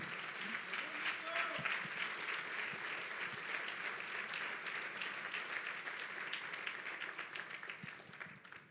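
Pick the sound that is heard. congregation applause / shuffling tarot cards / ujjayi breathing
congregation applause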